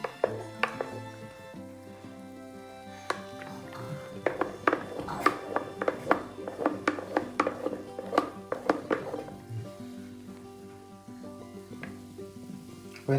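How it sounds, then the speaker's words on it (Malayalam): Homemade grape wine in a pressure cooker is stirred, giving a run of distinct clinking and scraping knocks against the container in an uneven rhythm, close and fairly loud, with quieter stretches before and after. "അപ്പോൾ നമ്മളൊന്നും കൂടി ഒന്ന് നന്നായിട്ടൊന്ന് മിക്സ് ചെയ്ത് കൊടുക്കുകയാണ്"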